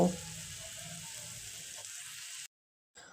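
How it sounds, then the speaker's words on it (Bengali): Ground turmeric, cumin and coriander spices fry together in a pan with a faint, even sizzle that runs for a couple of seconds and then abruptly cuts off. "জিরে গুঁড়ো ধনিয়া গুঁড়ো সবগুলো মশলা আমি একসঙ্গে কষে নেব"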